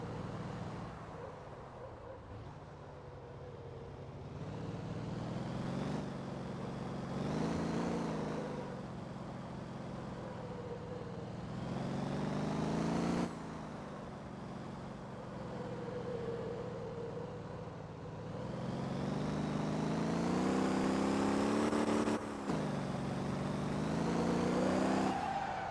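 A turbocharged car engine in the driving game Motor Town revs and winds up through rising and falling pitch sweeps, with tire squeal and shifts over about twenty-five seconds, steady and close.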